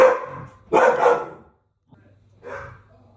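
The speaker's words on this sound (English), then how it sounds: "I have 2 dogs and they're both gonna be" Two pet dogs barking indoors, a few loud, close barks in quick bursts with a short quiet gap before a final softer bark.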